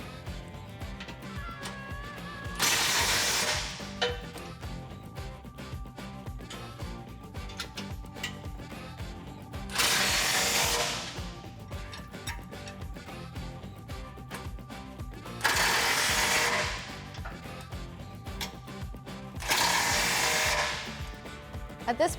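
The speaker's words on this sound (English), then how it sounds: "With an 18mm wrench and an 18mm socket, tighten these down." An 18mm wrench and socket, likely a ratchet, tighten bolts on a heavy-duty rear bumper on a Jeep Wrangler JK in four loud, separate bursts of close mechanical grinding, with steady background noise between them.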